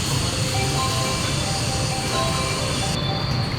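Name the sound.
train arriving on track 6 at a Japanese station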